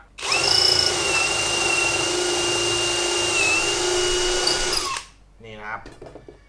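An electric drill bores a dowel hole into wood using a DIY woodworking jig. It gives a loud, steady whine for about five seconds, then winds down and stops, followed by faint sounds afterward.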